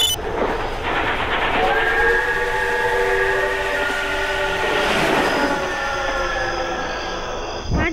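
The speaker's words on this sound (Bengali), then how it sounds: "O train train" A train rolls past in a video game set in a horror-style amusement park, its steady rumble and rattle carrying a long sustained whistle or horn that holds for several seconds, loud and continuous with no talking.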